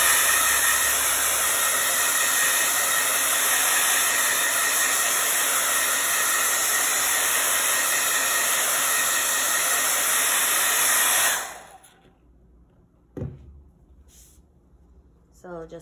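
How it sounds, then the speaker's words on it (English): A hair dryer blowing on wet paint on flip-flops, a loud, steady roaring hiss running for about eleven seconds before cutting off abruptly into near silence. "I'm going to blow this dry just so I can rest my hand."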